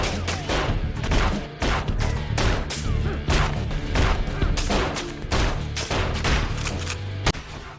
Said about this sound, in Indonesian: Hingga terjadilah baku tembak di antara mereka.